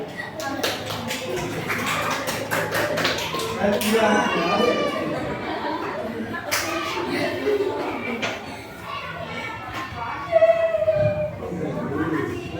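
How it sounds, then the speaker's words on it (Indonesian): A primary-school class claps briefly in a quick flurry at the start, then a teacher talks while children chatter and shuffle in the classroom. "Oke, tepuk tangan."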